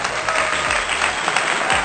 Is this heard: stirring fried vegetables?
no